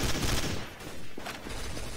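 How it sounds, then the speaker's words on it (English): Rapid gunfire in Counter-Strike: Source during a laggy GunGame match, heard as dense, loud bursts of shots that blur into a continuous crackling barrage with brief dips. "Oh shit, I'm shooting my own teammate"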